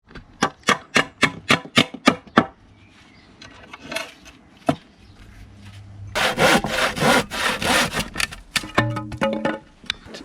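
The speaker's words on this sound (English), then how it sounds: "get a piece of wood on my wood pile, do a little bit of sawing and drilling" Hand-sawing a piece of wood from a woodpile, heard up close as a run of quick, evenly spaced rasping strokes, then a pause, then a denser burst of longer, harsher strokes.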